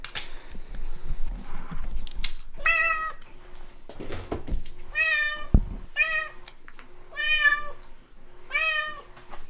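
A cat meows repeatedly, five or six insistent cries in close succession, with rustling and small clicks in between.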